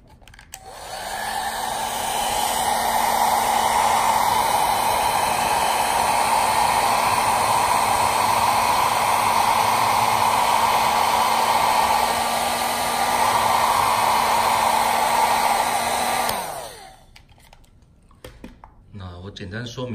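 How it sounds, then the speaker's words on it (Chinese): A hair dryer on a low airflow setting blows steadily for about sixteen seconds onto an inflation valve being serviced after oiling, a loud, even close-up whoosh that then cuts off, followed by quiet handling noises. "再来，我们用吹风机将它吹一下，那要稍微注意一下风量不要太大。"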